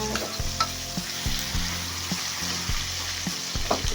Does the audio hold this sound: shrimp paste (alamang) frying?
yes